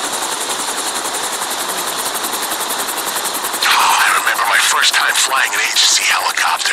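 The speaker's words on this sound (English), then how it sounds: "Flying an agency helicopter." An agency helicopter flying in the video game GTA 5, its rotor beating in a steady rapid chop with engine whine, joined midway by a louder burst of game sound effects.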